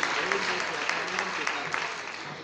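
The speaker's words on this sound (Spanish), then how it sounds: "Un fuerte aplauso para todos ellos" Applause from the audience at a town festival proclamation event in Barruecopardo, honoring residence workers; steady dense clapping throughout with some voices mixed in underneath.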